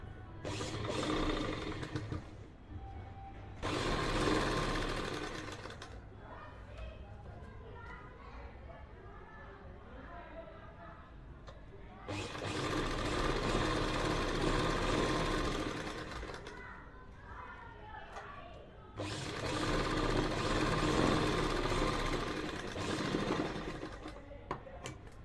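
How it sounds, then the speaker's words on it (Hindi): A sewing machine runs in three long, steady stitching bursts along the very edge of a salwar bottom. Someone talks in Hindi during the quiet gaps between them. "यहाँ पर एक सिलाई लगाएंगे बिल्कुल किनारे किनारे पर"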